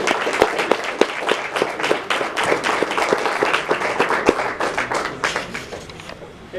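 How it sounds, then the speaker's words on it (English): Audience applause at a library presentation about the LaMonte factory, with sharp individual claps standing out over steady clapping from a small room crowd, continuing for several seconds before gradually thinning. "Give yourself a round of applause."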